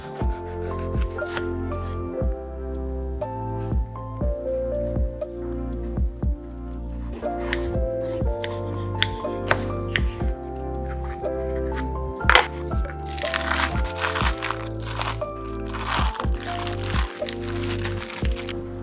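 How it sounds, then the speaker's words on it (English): A Star Crimson pear being cored and cut into thin slices with a knife, a long run of crisp, irregular cutting clicks and crunches over soft background music. "core your pear and cut into thin slices"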